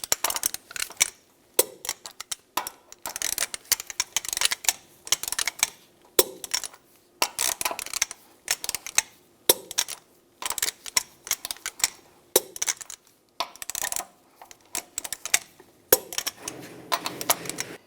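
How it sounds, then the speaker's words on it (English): A torque wrench tightens the lug nuts on a 1998-2002 Lincoln Navigator wheel, working in a cross pattern: repeated sharp metallic clicks and ratcheting bursts come in clusters with short pauses, close and fairly loud, with no talking. "Now I'm going to torque the lug nuts to 100 foot-pounds in a cross pattern to tighten the wheel down evenly"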